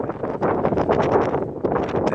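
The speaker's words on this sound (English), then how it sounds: "the wind is just whipping" Strong wind during a four-day nor'easter at the shore, a steady loud rushing buffet across the microphone with gusty swells throughout, no voices.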